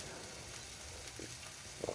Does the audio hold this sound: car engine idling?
no